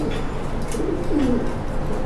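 Pigeons offered for sale coo in a short, soft, throaty burst close by, with no voices.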